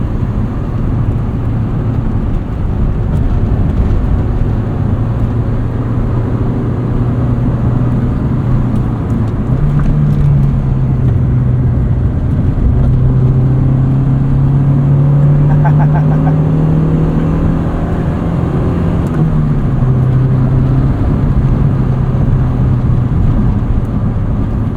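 A 1991 Honda Civic Si EF hatchback driving, its steady engine drone and road rumble rising and falling through gear changes, heard from inside the cabin with someone talking over it.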